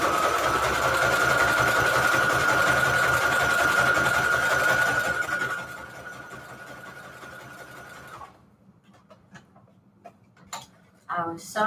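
A sewing machine runs loudly and steadily with a fast, even stitching whir for about five seconds, then drops to quieter running before stopping, followed by faint handling clicks.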